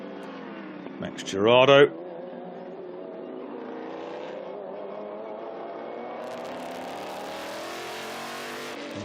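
A historic race car with a Judd V10 engine accelerates at a track during the Estoril Classics historic racing meeting. A brief loud rising rev is followed by a steady engine drone with a commentator talking over it.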